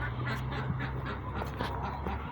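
Domestic ducks kept as pets give a continuous stream of nasal honks and quacks, close by and steady, with a low hum running underneath.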